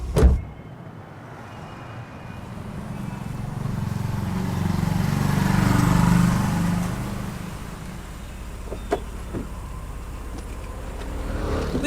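A car engine idles and revs steadily, swelling to a stronger low rumble midway before settling back, with a few faint clicks near the end and no talk.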